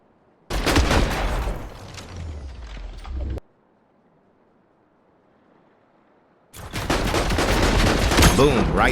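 Gunfire in the video game Fortnite comes as two loud, dense bursts of shots separated by a few seconds of near silence, close and harsh.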